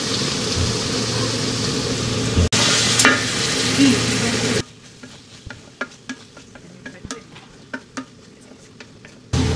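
Dried ribbonfish shutki being stirred into thick, well-cooked frying masala: a loud broadband sizzle and scraping for the first few seconds, then quieter, intermittent clicks and scrapes of the spoon against the pan.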